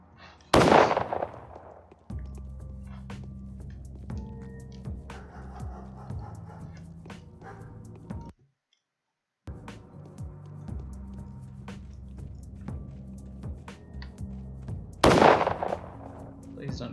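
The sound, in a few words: gunfire crossfire in the video game Pathologic Classic HD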